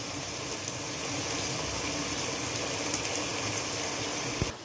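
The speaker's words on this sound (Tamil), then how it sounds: "இப்போ நல்லா தண்ணி கொதி வந்துருச்சு" Water coming to a rolling boil in a pot, ready for cooking rice for mutton biryani, a steady dense roar of bubbling that carries on without a break and stops abruptly near the end, with no voices.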